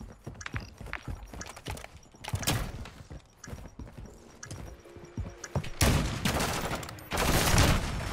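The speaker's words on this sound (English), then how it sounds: "He just fucking kept shooting" Rapid bursts of gunfire in Modern Warfare 2, sniper play without a scope, crackling in clustered volleys and then swelling into louder sustained firing near the end, with no talk over it.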